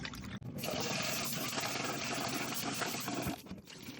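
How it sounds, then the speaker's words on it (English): Uncooked white rice is swished and rinsed in a pot of water, giving a continuous close sloshing and trickling that briefly catches near the start and fades off toward the end. "I normally wash my rice 3 to 4 times."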